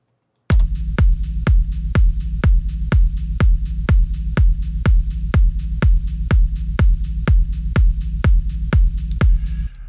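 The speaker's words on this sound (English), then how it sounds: "for like a big kind of techno style rumble bass" A deep techno rumble bass, compressed and held by a limiter, pounds out about twenty evenly spaced heavy thumps. Each hit leaves a droning low tail, loud and steady with no voices.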